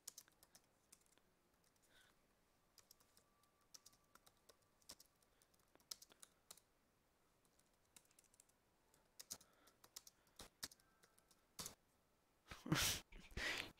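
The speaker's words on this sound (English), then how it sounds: "Wait, let me type." Someone types on a computer keyboard with quiet, irregular clicks in short bursts and pauses, then a louder cluster of keystrokes near the end.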